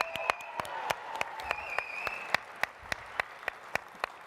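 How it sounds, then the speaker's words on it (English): A small crowd at an evening fundraiser claps for an organiser, the sparse, distinct hand claps landing in an uneven rhythm over a faint musical hum in a large room. "let's give Trina a round of applause"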